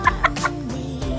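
A few short clucks from a kampung chicken close by, quick and bright, over a low steady hum in the background.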